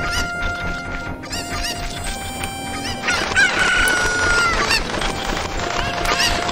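Chickens from the Ocarina of Time video game cluck and crow, with several overlapping calls layered over a busy, steady game soundscape that grows fuller and louder halfway through.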